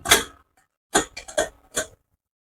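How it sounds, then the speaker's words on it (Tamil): A pressure cooker lid being opened after the pressure has been released, a few sharp metallic clicks and clanks close by, one at the start and a quick cluster of four about a second later. "இப்ப நம்ம குக்கர் மூடியை திறந்துடலாம்"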